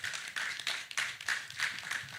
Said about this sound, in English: Please, a round of applause for Faith Foundation.